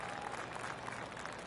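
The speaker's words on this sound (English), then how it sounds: "Oh, golf clap." Polite golf clap from a gallery in a PS4 golf video game, a steady soft patter of applause filling the moment without pause, moderately distant and even in level.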